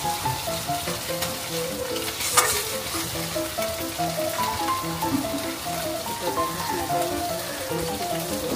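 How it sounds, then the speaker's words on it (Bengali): Spice paste for Bengali ilish sorshe posto sizzles and spatters in a hot pan while being stirred, a dense, steady frying crackle up close with occasional scraping of the spoon and no talking. "পুরো মশলাটা এরমভাবে কষিয়ে নেব।"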